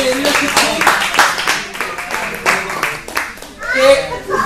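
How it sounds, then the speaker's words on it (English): An audience at an anniversary event claps in a scattered round of applause, mixed with chatter and children's voices in the room. "Another big round of applause for the GNA leadership team."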